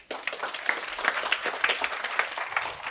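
An audience applauds a panelist at a Bulgarian panel discussion on AI, steady hand clapping from a crowd that starts abruptly and carries on without letting up, with no voices over it.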